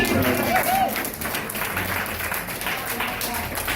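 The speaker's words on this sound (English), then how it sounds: "I'd also like to give Jean a round of applause for her hand in this whole thing." Guests at a 60th wedding anniversary party give a round of applause, a dense burst of clapping from a small crowd, loud at first and then easing, with voices and cheers mixed in.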